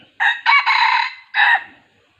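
A young rooster crows in a few short, broken bursts, a bit thin and uneven, close by with no other sounds around it.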